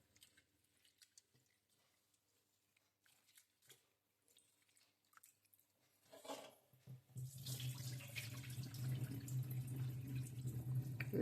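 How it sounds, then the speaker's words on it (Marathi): Rice being washed in water from a tap before cooking khichdi: quiet small clinks and drips at first, then a steady close gush of running water into a vessel with sloshing, and no talk. "तांदूळ धुवून घ्यायचा आता, तांदूळ."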